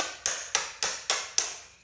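Pliers used as a makeshift hammer, tapping a screwdriver to knock the foot peg off a 2023 Yamaha YZ250F dirt bike: six sharp metallic taps at a steady pace, close and clear with no talking.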